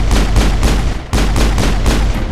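Rapid gunfire in the video game Mass Effect, loud repeated bursts of shots in quick rhythm with a short break midway, no talk.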